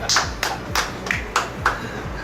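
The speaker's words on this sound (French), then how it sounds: "applaudissez-vous les amateurs avertis" Guests at a wine-awards dinner in a Mauritius restaurant clap in a few sharp, spaced hand claps, roughly one every third of a second, with a voice talking faintly underneath.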